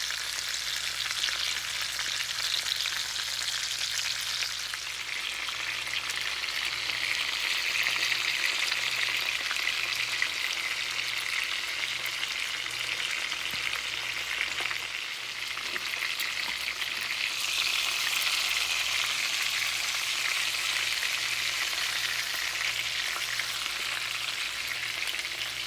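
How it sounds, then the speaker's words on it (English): Food browns in a pan on a stovetop with a long, even sizzle like light rain, steady and fairly close throughout, with a faint low hum underneath. "We're going to brown them on both sides"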